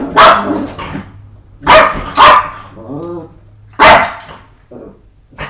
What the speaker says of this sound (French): Et l'autre, il aboie bêtement, il ne sait pas pourquoi.